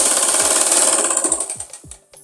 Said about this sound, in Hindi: आधा इंच का मार्जिन छोड़ते हुए हमने इस पे सिलाई लगानी है।